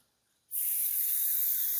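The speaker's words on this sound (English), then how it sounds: "But it's not going to hurt just to spray it" Hornady One Shot gun cleaner and lube sprayed from an aerosol can onto a stainless steel gun spring: a single steady, bright hiss that starts abruptly after a brief silence and keeps going, close and alone.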